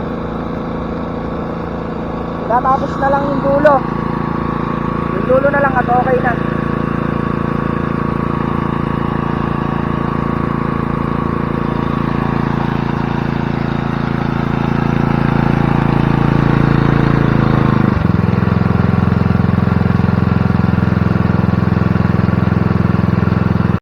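A motor drives a sprayer for calamansi trees on a farm, running as a steady, fairly loud drone that gets a little louder near the end, with brief speech early on.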